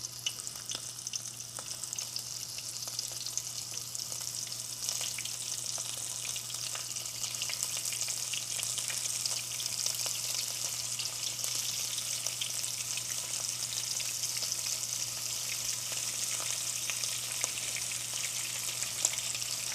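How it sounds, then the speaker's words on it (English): Shrimp frying in hot bubbling oil, giving a steady soft crackling sizzle with scattered pops throughout, close and fairly quiet with no talk. "I'm going to see if I throw one in, if it fries or what it does"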